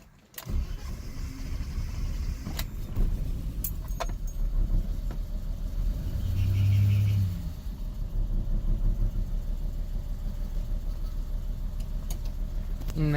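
A 1988 BMW 325ix E30 with a five-speed manual and all-wheel drive cranks briefly at the start and settles into a steady, smooth low idle, with a few light clicks and rattles over it.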